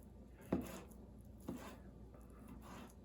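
A LionSTEEL M5 knife with G10 handle slicing meat into smaller pieces, two soft, close, quiet cuts about a second apart against a cutting surface, followed by faint rubbing.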